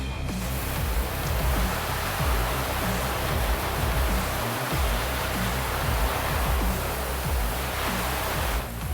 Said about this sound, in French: Tu vas voir, je vais le rincer, ça va partir tout de suite.